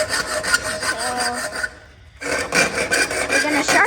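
Harsh, steady grinding rasp of a metal pipe being cut into a pointed sword blade, loud and close, broken by one short pause before resuming.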